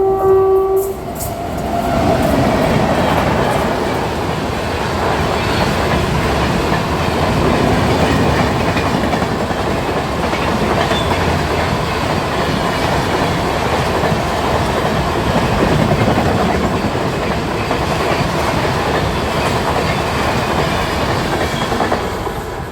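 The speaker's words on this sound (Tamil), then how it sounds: "இப்போ போகிற செலிமா சூப்பர் ஃபாஸ்ட் எக்ஸ்பிரஸ்" Shalimar superfast express train running on rails from Thiruvananthapuram Central, a loud close rumble with rhythmic wheel clatter throughout and a brief horn-like tone at the start.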